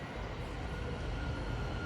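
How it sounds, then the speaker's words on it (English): An LNER Azuma train runs through Alexandra Palace station on the East Coast Main Line, a brief, steady rumbling roar of wheels and rail cars, fairly near and constant in level. "Passing through now is an LNER Azuma from York to London King's Cross 800"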